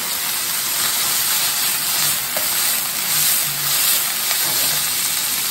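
Scallops drop into a pan of king oyster mushrooms frying over high heat, raising a loud, steady, close-up sizzle and hiss that carries on evenly throughout, with faint utensil clinks and no talking.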